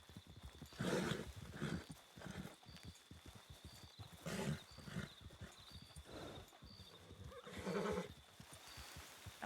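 A horse neighs several times amid a busy Red Dead Redemption roleplay game soundscape, with bursts of whinnying rising over a steady background hum and scattered clicks.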